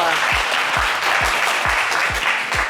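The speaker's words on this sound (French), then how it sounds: "Je voudrais qu'on vous applaudisse bien fort." A television game-show studio audience applauds a contestant, dense clapping held at an even level, with a regular low thumping beat pulsing underneath.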